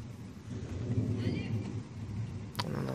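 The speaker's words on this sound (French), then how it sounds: "On en entend bien l'orage." Low, steady rumbling of distant thunder from a thunderstorm at Chénens rolls on throughout, with a sharp brief crack near the end.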